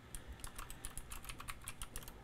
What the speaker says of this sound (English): I'll try to not type and narrate what I'm typing too much.